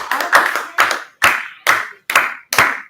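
An audience at a Maker Faire claps in applause, six or seven sharp, loud claps in an even, rhythmic beat.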